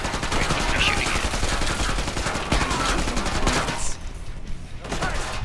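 Rapid automatic gunfire in Killing Floor 2, a loud sustained burst that fills most of the stretch before easing off near the end, with no talk over it.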